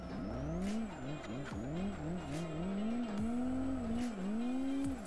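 A race car's engine revs and wails with rising and falling pitch while tires squeal in a drift video game, loud and continuous with repeated throttle shifts.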